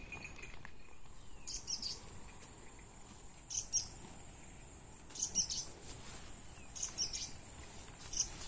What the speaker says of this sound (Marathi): तुपिया पक्षी ओरडते बघा.